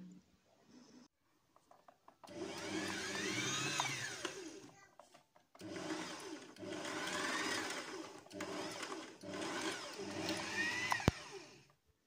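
A Janome sewing machine winds thread onto its bobbin in several loud, steady high-speed whirring bursts separated by short pauses, heard close and with almost no talk.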